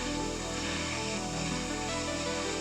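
A spray gun hisses steadily as it coats rifle receivers with red Cerakote, a close, continuous airy spray that lasts the whole clip.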